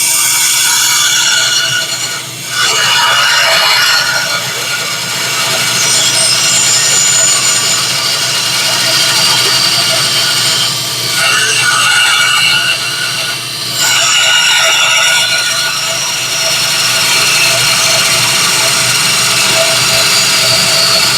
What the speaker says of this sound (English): I got my bandsaw here and I'm just going to cut that out and save that piece.